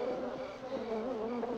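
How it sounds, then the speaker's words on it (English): Dense, steady buzzing of a swarm of killer bees, continuous and fairly close, with a wavering drone and no speech. "Instead of raiding the domestic hives, they had to meddle with these killer bees."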